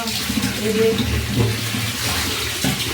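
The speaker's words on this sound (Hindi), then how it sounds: "तो नल चालू कर लेता" Water runs steadily from a kitchen tap, filling a vessel to wash freshwater fish, a continuous close splashing rush with no pauses.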